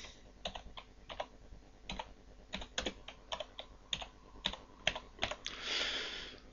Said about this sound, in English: I'm going to type a name in here.